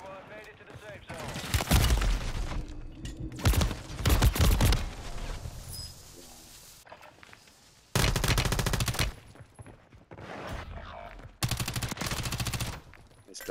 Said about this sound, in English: This gun just sprayed the fuck out of me.